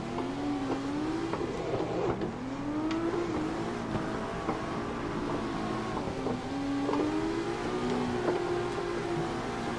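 A car engine in third gear, drifting in the Assetto Corsa sim, revs and wavers continuously with rising and falling pitch sweeps as the throttle is worked, loud and close throughout.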